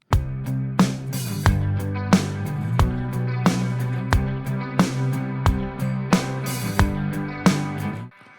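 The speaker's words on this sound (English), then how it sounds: "a cool little riff, like a chorusy guitar riff" A looping electric guitar riff with a shimmering chorus effect, plucked notes repeating in a steady rhythm over a low pulse, played alone and up close.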